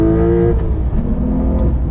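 A Porsche 911 Carrera T twin-turbo flat-six with the standard sports exhaust revs loudly and steadily, its harmonic drone heard from inside the cabin for about two seconds with no talking.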